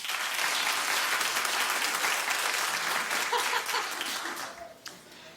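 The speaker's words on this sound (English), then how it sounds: "Clap if you did." A studio audience on a daytime talk show breaks into sustained, loud applause with scattered laughter that holds steady before tapering off near the end.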